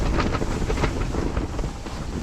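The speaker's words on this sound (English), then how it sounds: "Yeah, it's a little windy." Steady, strong wind buffets the microphone out on the ice while ice fishing, a loud continuous rumble with no pauses.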